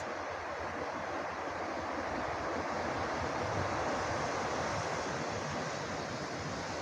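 Ocean surf washing onto the shore at La Gomera, a steady, continuous roar of breaking waves with a little wind noise, loud and unbroken throughout with no voices.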